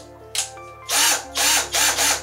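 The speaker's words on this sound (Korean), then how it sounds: "드라이버 모드, 드릴 모드는 물론 해머 드릴 모드까지 있습니다." A Tool&Tool cordless electric drill from a household hand-tool set runs in three loud bursts of motor whine after a brief start-up click, each burst lasting about a third of a second with short pauses between.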